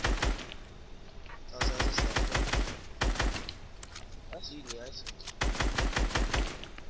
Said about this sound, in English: watch out, cause I heard sniping